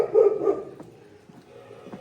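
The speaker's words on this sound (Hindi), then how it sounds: "ओ भाई कौन सा कुत्ता है ये गुर्रा रहा है।" A small female dog growls, a low rumbling snarl that is loud and close at first, then fades into quieter grumbles.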